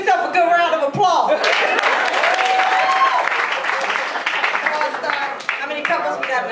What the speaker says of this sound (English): give yourself a good round of applause